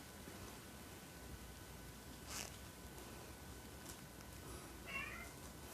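A cat shut out of the room gives a couple of faint, brief meows behind a steady hiss of room noise, sounding somewhat distant with no talking.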